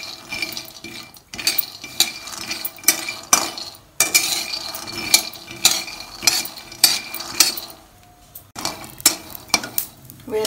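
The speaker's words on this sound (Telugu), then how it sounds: "వేరుశనగ పప్పు ఇట్లా లో ఫ్లేమ్లో వేయించుకొని పక్కన పెట్టుకోవాలి" Peanuts dry roasting in a pan over a low flame, rattling and scraping in repeated bursts, with bright metallic clinks of the spatula against the pan.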